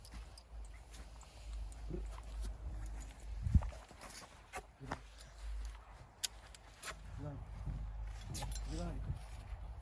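Slow hoof clops of a mare in a paired harness walking on hard ground, a few irregular steps amid outdoor noise, with a voice calling out now and then.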